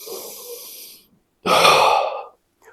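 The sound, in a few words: deep breathing with the belly or chest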